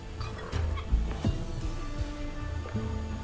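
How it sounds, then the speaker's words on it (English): Chickens clucking in a room in the video game Hello Neighbor 2, several short squawks and clucks scattered over a low background hum, fairly soft and close. "Why does he have a room full of chickens?"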